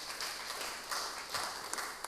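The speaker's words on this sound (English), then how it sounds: "Give her a round of applause." Applause from an audience at a talk, a soft, brief, continuous patter of clapping that sounds somewhat distant and lasts around two seconds.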